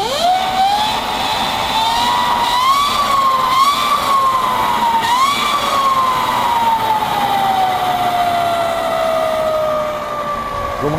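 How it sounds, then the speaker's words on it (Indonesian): A chain-driven rear wheel on a Suzuki GSX-R 150 converted to a mid-drive electric motor spins up, producing a loud, steady whine that rises and wavers in pitch before slowly falling away, with no talking. "Yang kita dengar tadi itu kebanyakan suara rantai dan roda belakang"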